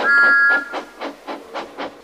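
A steam engine whistle gives a short, shrill blast, followed by rhythmic chuffing puffs as the engine moves off at a steady pace.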